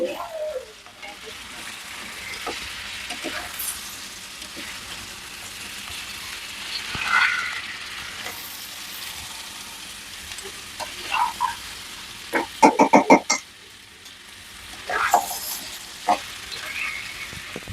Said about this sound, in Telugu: క్రాబ్స్ వేసుకొని ఒకసారి ఇలా కలుపుకుందాము.